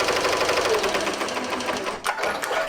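An embroidery machine stitches an appliqué onto a T-shirt with a steady, dense mechanical whir, loud and close, briefly dipping before resuming.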